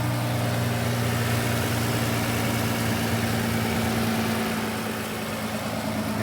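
A rust-free V6 car engine idles steadily after a cold start, a loud, even low hum with a constant droning tone and no revving, close to the engine.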